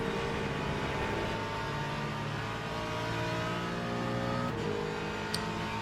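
A race car engine in Le Mans Ultimate holds a steady, sustained drone under load, then shifts pitch with a gear change near the end as the car keeps accelerating, with no talk.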